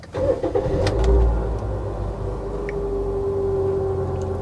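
A 2008 Toyota Yaris Type S automatic cranks and fires up, a short starter whir giving way to a steady, close idle hum with no talking.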